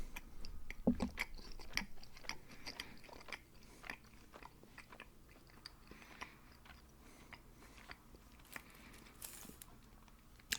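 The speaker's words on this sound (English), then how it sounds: "I've had a few requests for chewy candies lately. So here we go." Soft, close chewing and biting on chewy Easter candies in a quiet ASMR setting, with faint sticky smacks and small crunches scattered irregularly throughout, no talk.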